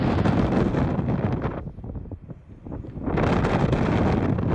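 Strong Antarctic wind roars and buffets the microphone in heavy gusts, easing briefly in the middle before surging back just as loud.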